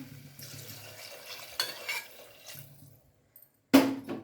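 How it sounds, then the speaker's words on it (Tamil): Water splashes and trickles into a cooking pot of foxtail millet over a few seconds, with a louder burst of pouring near the end and soft clinks in between. "இப்போ தண்ணி சேர்த்துக்கலாம்."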